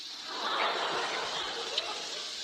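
A soft, dry rasping scrape of rough, cracked hands rubbed steadily over a man's face, continuous and close for a couple of seconds.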